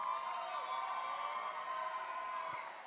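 A crowd in a college gym cheering at a halftime game, a continuous roar of voices and whoops with some children shouting, steady and fairly distant.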